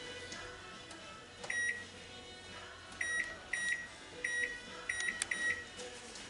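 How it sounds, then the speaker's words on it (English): An oven timer is set while baking unleavened bread, giving six short, sharp electronic beeps in an irregular sequence over a faint background hum. "So we're going to set our timer"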